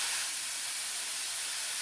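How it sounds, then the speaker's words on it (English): Burger patties seasoned with Meat Magic BOLD seasoning searing in a hot pan, a steady loud close sizzle and hiss throughout with no talk. "I'm just going to do the searing"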